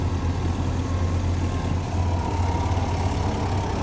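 A Kubota M70 tractor engine runs steadily nearby, a low continuous diesel rumble with no talking.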